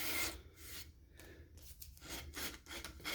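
Sanding strokes on the edge of iron-on wood veneer edge banding applied to plywood, a close, steady series of rough rubbing passes with brief pauses between them.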